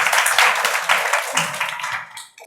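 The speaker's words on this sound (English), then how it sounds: "Give a big applause for him." Classroom applause from a group of students, a brisk burst of hand clapping for a couple of seconds that tapers off quickly.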